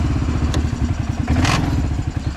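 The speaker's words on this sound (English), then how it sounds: "the clutch is not so good. It is ticking like a son of a gun" A Kawasaki 650 mud build engine idles close by with a rapid, lumpy thumping pulse and a clattering tick from a worn clutch, plus a couple of sharp knocks, with no talk over it.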